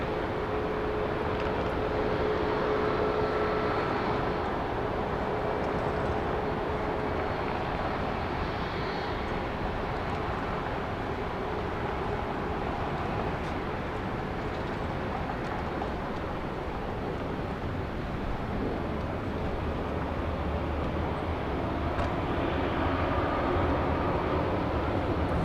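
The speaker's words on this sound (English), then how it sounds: "I'm hearing an airplane." An airplane at Dallas Love Field, a steady distant engine roar that persists for the whole stretch at moderate level with no talk over it.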